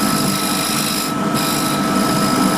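A curved scraper smooths a dip in a wooden Eaton table lamp base spinning on a lathe, giving a continuous close scraping hiss over the lathe's steady hum, loud and unbroken, with a brief lighter patch midway.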